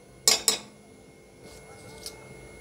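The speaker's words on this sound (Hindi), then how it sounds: "तो 2 चम्मच डालेंगे हम घी इसमें" A metal spoon clinks twice sharply against a pressure cooker while ghee is added for vegetable masala khichdi, followed by a few fainter metallic taps.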